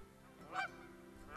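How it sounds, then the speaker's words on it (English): Canada geese give two short nasal honks about a second apart, moderately close, over a faint background murmur. "Canada geese are the most familiar of North America's geese."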